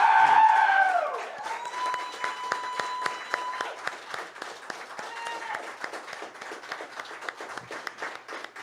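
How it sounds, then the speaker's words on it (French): An audience at a Quebec poetry reading applauds poet Yvon Jean, scattered claps rising into a steady round of applause with a few cheers, following a fading musical phrase at the start. "une main d'applaudissement, s'il vous plaît, à Yvan Jean."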